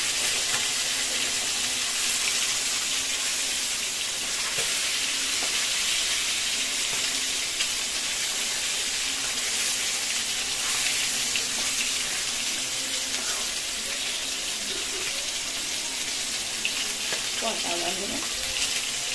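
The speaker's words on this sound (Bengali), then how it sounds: "আমাদের এখানে ডিমটা ফ্রাই হচ্ছে" Egg frying in a pan for a spicy soybean dish made with free-range hen eggs, giving a continuous loud hiss and crackle of hot oil that lasts throughout, close by and without talking.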